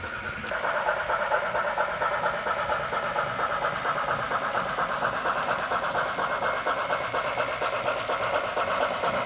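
An HO scale model railroad locomotive pulls a short string of cars out of a yard, producing a steady, close mechanical whir and hum with faint rhythmic clicking of wheels over track joints.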